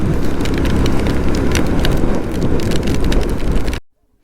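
Heavy rain and wind roar past during a motorcycle ride on a road trip, a loud, dense rushing wash with buffeting that holds steady and then cuts off abruptly near the end.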